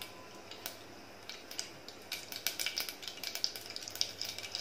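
Mustard seeds sizzling and popping in at least three tablespoons of hot oil, with half a teaspoon added, while cooking a dried fish, brinjal and potato bhaji; a steady close crackle with sharp pops that grow denser and louder toward the end.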